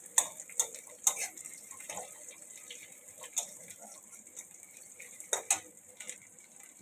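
Black cumin and onion temper in hot oil for a tangra fish curry, giving a faint, steady sizzle. Sharp metallic clinks and stirring taps from a utensil against the pan recur irregularly over it.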